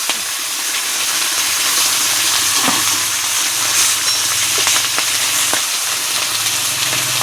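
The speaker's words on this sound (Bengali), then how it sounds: "তেল বসিয়ে দিয়েছি তো এখন মাছটা সুন্দর করে ভাজা করে নেব" Khoira fish, coated in salt and turmeric, fry in hot oil with a steady, close sizzle and occasional sharper spits and pops throughout.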